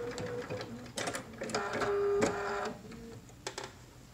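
A sewing machine stitches pleats into a cotton mask in short mechanical bursts, with a longer whirring run in the middle and a few quick taps near the end.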